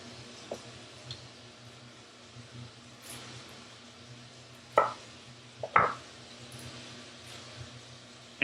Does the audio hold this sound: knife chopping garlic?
yes